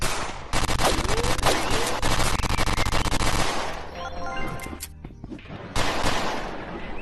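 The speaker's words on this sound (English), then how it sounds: "I didn't mean to shoot you." Rapid gunfire from a gun in the VR game Rec Room at a shooting range. Dense, loud bursts of shots run for several seconds, break off briefly with a few scattered pops, then a final loud burst comes near.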